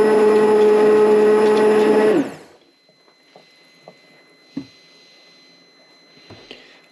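KitchenAid stand mixer churning a muscadine ice cream base whirs loudly and steadily for about two seconds, then winds down and stops, leaving faint kitchen clinks and knocks.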